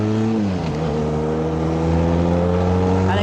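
A vehicle engine in town traffic pulls away from lights, its tone dipping briefly and then rising steadily as it accelerates, close and clear with no talking.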